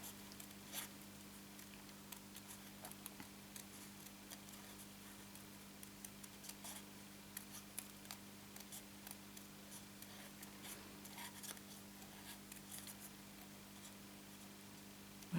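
Scissors snip around the edge of a painted paper wreath piece during a card-making session, a steady run of small, crisp cuts close by over a faint steady hum, with no talking.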